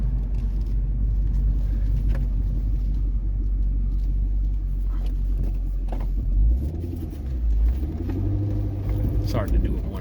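A C5 or C6 Corvette drives along with a steady, loud low engine rumble throughout, rising briefly around a speed bump, with someone talking over it now and then.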